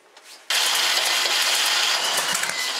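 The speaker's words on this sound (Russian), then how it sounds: "контрольный запуск двигателя." A UAZ vehicle engine is cranked for a test start and catches, jumping from near silence to a loud, steady, close roar that holds for over two seconds.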